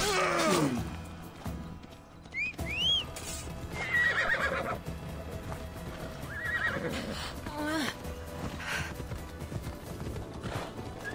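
A horse in Assassin's Creed Odyssey neighs and whinnies loudly at close range, its hooves clip-clopping steadily underneath amid busy game sound.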